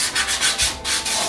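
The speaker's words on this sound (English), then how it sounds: "You can use your trusty stick in here anytime to" A stick rubs across a surface for mark making, producing rhythmic scraping strokes in quick back-and-forth passes, close and fairly loud with no voices.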